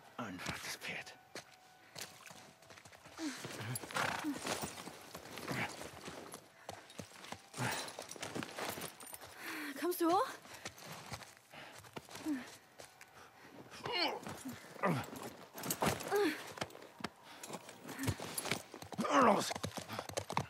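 Steady clopping hoofbeats of a horse in The Last of Us Part 1 continue throughout, moderately close, with occasional talk and other game sounds mixed in.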